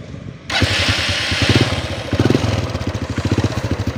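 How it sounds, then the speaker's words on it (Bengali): A Honda Unicorn 150cc motorcycle, a second-hand cafe racer build, starts after a brief quiet moment and settles into a loud, close, steady idle with a rhythmic thumping pulse. "আমি আপনাদেরকে এখন একটু বাইকটা স্টার্ট দিয়ে দেখাই বাইকটার ইঞ্জিন কন্ডিশনটা কীরকম আছে"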